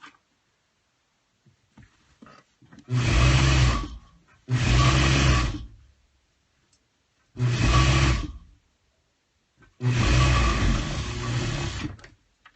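A sewing machine stitches a rag quilt pillow sham in four separate bursts, each a steady close whirring run of one to two seconds, with short quiet pauses between them.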